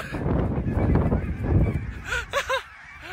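Several geese honk in quick bursts near the end, following a stretch of scuffling noise and rustling movement.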